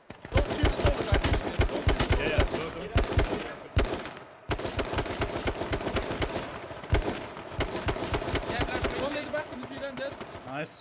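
Video game shootout gunfire: rapid bursts of automatic shots in quick, repeated volleys, loud and close, with short gaps between strings and team voice chat going on underneath.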